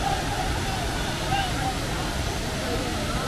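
Lakkam waterfall in Munnar, a steady broadband roar of falling water, continuous and fairly loud, with a voice talking over it.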